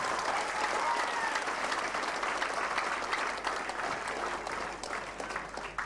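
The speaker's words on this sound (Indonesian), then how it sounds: "Tepuk tangan untuk Mas Teguh." A seminar audience claps for a man named Mas Teguh, a steady burst of many hands applauding together for several seconds, full and close, gradually thinning toward the end.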